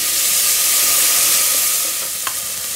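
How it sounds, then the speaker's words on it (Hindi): Finely chopped tomato frying in a pan with ginger garlic paste for a Bangalore-style aash (ganji) dish, a loud steady sizzle and hiss with a brief clink near the end. "अब मैं इसमें एक छोटा सा टमाटर, जिसको मैंने बारीक काट लिया है,"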